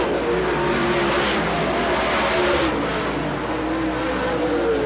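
Late model race cars racing on a track at the Keystone Cup, engines roaring and revving continuously as a pack, with cars surging past and the roar fluctuating; loud and sustained, with a faint voice underneath.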